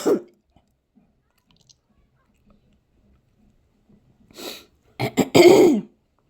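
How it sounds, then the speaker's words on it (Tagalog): A person indoors gives a throat-clearing cough at the start, followed by near-silence, then a short burst of harsher coughs close to the microphone. "Inuubo po ako, mga palangga."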